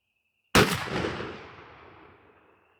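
A single 12-gauge Remington 870 shotgun shot with a 2 oz TSS #9 shell cracks sharply after a moment of near silence, then rolls away in a long, fading outdoor echo.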